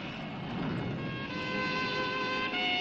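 A fixed-wing aircraft engine drones steadily at takeoff, a loud, constant roar with sustained whining tones.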